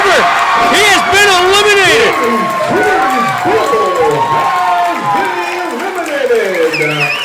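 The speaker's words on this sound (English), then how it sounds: "The eruption from the crowd when BT Bull's feet hit the ground was enormous" A wrestling crowd erupts into loud, sustained cheering and shouting as a wrestler is eliminated during a multi-person brawl, with a commentator's voice carrying over the roar throughout.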